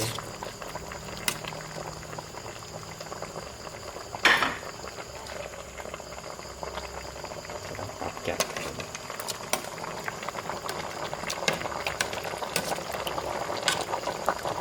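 A pot of water bubbles at a rolling boil for blanching snakehead fish, with continuous churning and occasional clinks of utensils, while voices murmur faintly in the background.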